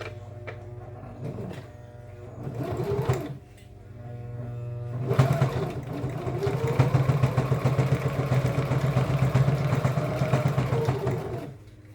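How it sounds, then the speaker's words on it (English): A sewing machine fitted with a double needle sews a jeans zipper, whirring in a short burst, then a longer steady, loud run of rapid stitching close by. "I'm going to switch machines because I already have a double needle on this machine"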